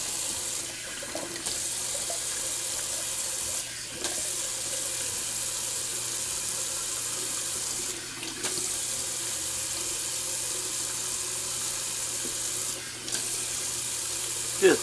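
Cold water runs from a tap for rinsing after a shave, a steady close hiss of flowing water that lasts throughout with slight variations and a faint knock at the end.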